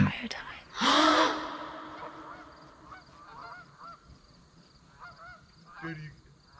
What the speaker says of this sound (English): Dude, did you hear those wings?